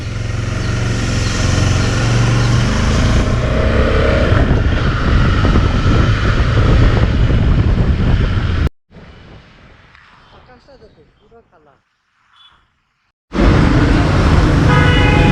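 Loud, continuous motorbike engine and road noise roar for several seconds, cut by a sudden drop to near quiet before the roar returns.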